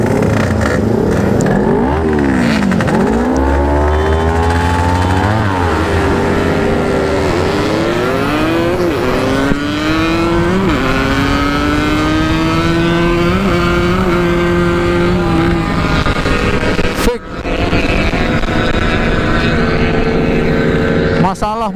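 A Yamaha RX King two-stroke motorcycle with a ported OS 150 block revs up and down repeatedly, loud and close. The engine pitch swoops and climbs throughout, then briefly drops off sharply near the end.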